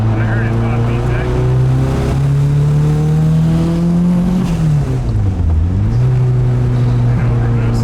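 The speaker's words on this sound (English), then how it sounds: "above like 4150 RPM. Yeah, that you heard it, right? I heard it pop VTEC." A turbocharged Honda K24 engine in a Nissan Cefiro project car revs hard, its pitch climbing steadily, dipping as the throttle lifts, then rising again as VTEC engages; the loud, continuous drone fills the cabin with some talk over it.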